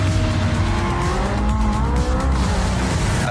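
Vintage Le Mans–winning race car driven in the Forza racing video game, its engine holding a steady loud drone with shifting tones and faint tire squeal throughout, close and continuous with no voices.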